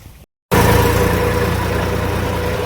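A tractor loaded with sand for temple construction runs with a loud, steady engine drone after a brief gap of silence.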